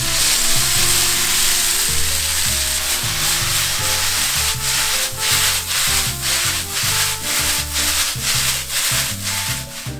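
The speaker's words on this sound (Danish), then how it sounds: "Og så steger vi lige det her af, så det bliver sådan en lille smule sprødt." Bacon sizzles in a pan as it crisps for spaghetti carbonara, making a loud, continuous frying hiss with a steady rhythmic low pulse running underneath.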